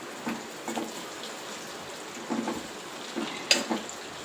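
Chicken pickle frying gently in oil over a low flame, a soft, quiet crackle and sizzle with scattered small pops and an occasional louder spit.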